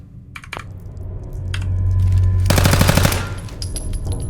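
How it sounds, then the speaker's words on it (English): A 10mm pistol on automatic in Fallout 4 rips off a fast, dense burst of shots over a low hum, with a few separate clicks before and a faint high tone after. "And now automatic fire."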